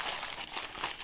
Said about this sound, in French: vous prenez une grande feuille de papier alu, vous froissez et vous la mettez dans cette forme